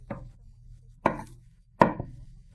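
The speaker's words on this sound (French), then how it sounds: "je la coupe en petits morceaux de la taille que tu préfères" A knife cuts an omelette into small pieces on a board with three sharp, separate chops close by, spaced about a second apart, against quiet.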